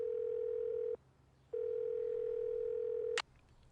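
A telephone dial tone sounds twice in steady, loud bursts with a short gap between them. A brief sharp click follows at the end.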